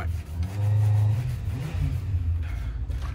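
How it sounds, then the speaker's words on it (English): A motorbike revs outside a woodturning workshop, a loud low engine drone swelling strongly early on, then continuing as a steady, slightly rough rumble for the rest of the stretch with no talk over it. "Just a bloke out there with his motorbike."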